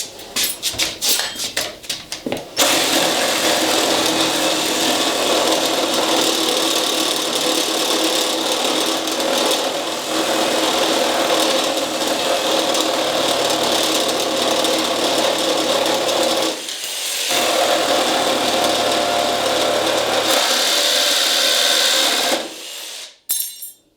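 A DeWalt reciprocating saw cuts steadily and loudly for about twenty seconds after a few start-up bursts, with one brief pause before stopping at the end.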